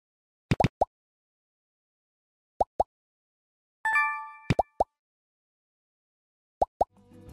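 Indie video game sound effects for shooting bullets and collecting small eggs: short bright plops and pops in quick pairs and triplets, separated by silence, with a brief chiming pickup tone in the middle, clean and close.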